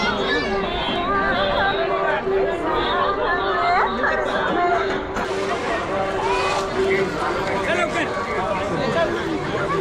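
Dense crowd chatter fills the grounds of the Bharadi Devi jatra at Anganewadi in Konkan, a continuous loud babble of many voices with a loudspeaker announcement voice carrying over the hubbub.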